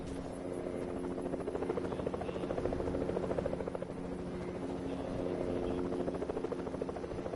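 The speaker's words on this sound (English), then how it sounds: "Another chopper." Helicopter in the video game Apex Legends, a steady thrumming rotor drone with a fluttering buzz that swells slightly in the middle and holds throughout, with no speech.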